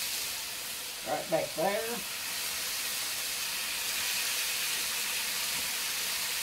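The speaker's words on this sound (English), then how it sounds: "So we want to let this fry up" Sausage and bacon frying in a pan, a steady close sizzle and hiss that runs the whole way through, with a brief spoken phrase early on over the crackle.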